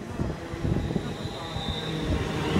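Steady low rumble of a London Midland Class 350 electric train idling at Cheddington station platform, with faint clanks and a thin high whine, quiet and continuous.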